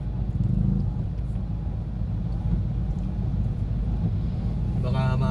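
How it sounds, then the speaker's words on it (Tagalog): Heavy road traffic backed up after an accident, a steady low engine rumble from idling and creeping vehicles with wind buffeting the microphone, close and continuous, while people talk. "Mabigat na ang traffic dahil sa aksidente."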